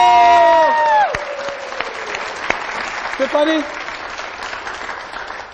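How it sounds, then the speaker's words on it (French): French TV variety show studio audience clapping for a guest, a broad patter of hands under a presenter's voice and a fading musical sting, tapering off toward the end. "Applaudissements pour Stéphanie Zongo."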